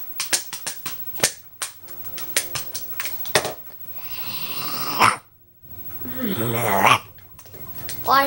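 A person imitates a dog, giving a quick run of short rhythmic barks, then growling, snorting vocal noises and a louder drawn-out bark-like howl, all made with the voice close to the microphone.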